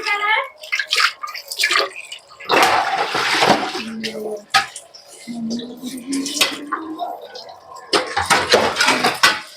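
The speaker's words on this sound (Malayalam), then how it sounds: "ഈ പാത്രം കഴുകിയിട്ട് പിന്നെ ആണ് കുറച്ച് ഫ്രീ ആവുക" Dishes being washed under running water at a home sink, with pots and cutlery clattering close by in irregular bursts over a steady splash. A voice talks intermittently over it.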